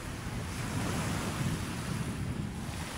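Steady, continuous wash of waves at Manila Bay's Dolomite Beach, with wind buffeting the microphone throughout, no voices.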